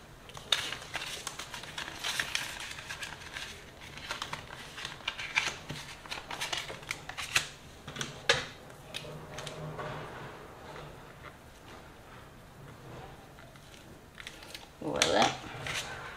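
Banknotes being counted out of envelopes, with soft paper flicks, rustles and crinkles running close and quiet throughout while someone talks over them in French.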